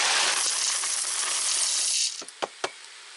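Dry penne rigate pasta from a whole box pours into an Instant Pot as a loud, dense rattling cascade lasting about two seconds, then a few last pieces clatter and drop singly.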